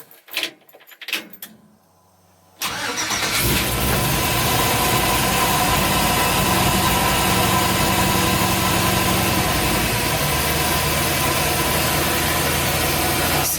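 An LS-swapped Chevrolet C10 truck engine starts up after a few quiet knocks and settles into a loud, steady, rumbling idle that runs unbroken close by.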